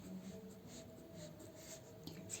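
A pen or pencil writes out input variable values for a digital electronics truth table by hand. The steady scratching is very faint and soft.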